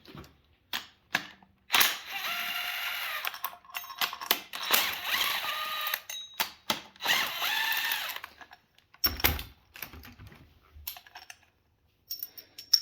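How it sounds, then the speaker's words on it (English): Ratchet wrench loosening three 15 mm bolts on a tensioner bracket of a 3800 engine in a Grand Prix GTP, with bursts of rapid clicking separated by pauses, then scattered metallic clinks. "next you want to replace this tensioner bracket, which is just these three 15 millimeter bolts."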